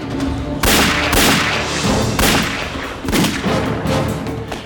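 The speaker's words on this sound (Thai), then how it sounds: "เสียงปืนดังมาจากทางวัดนี่หว่า" Repeated loud gunshots in a Thai TV drama crack out in a rapid volley, several blasts layered over a noisy, reverberant background with no clear speech.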